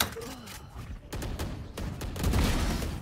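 Gunfire in the video game Valorant, a short burst of rapid shots with loud, dense rattling that builds toward the end, under faint voices.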